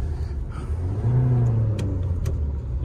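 A 2023 Tata Harrier SUV engine hums steadily, then swells into a louder rising rev before easing back, heard up close with no talk.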